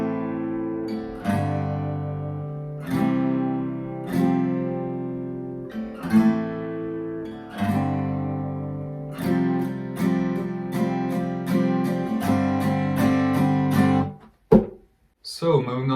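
Acoustic guitar strums the pre-chorus of a song in steady rhythmic chord strokes with percussive hand taps on the beat, played up close and alone, ending in a couple of sharp muted hits.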